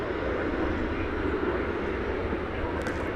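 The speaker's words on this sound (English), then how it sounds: "That was American Flight 1226 arriving from Miami" American Airlines jet arriving at DFW airport, a steady loud broadband engine roar with no break, heard alone throughout.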